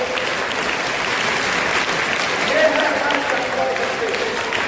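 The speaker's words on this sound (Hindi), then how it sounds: "एक बार ताली बजा के देख लो" Students clap together as a crowd at a school's annual sports inaugural ceremony, producing a continuous, even wash of applause with voices mixed in underneath.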